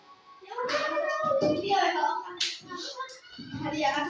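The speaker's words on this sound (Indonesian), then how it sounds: "Tepuk lima." Children in a classroom clap in short groups while a voice talks in between, the claps sharp and close, interleaved with speech.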